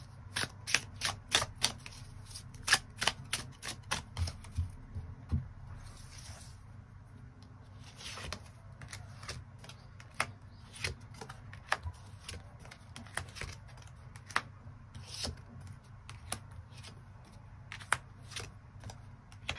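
Tarot cards being shuffled and drawn, a long run of quick, crisp flicks and taps that come in bursts, close and fairly quiet over a soft low background hum.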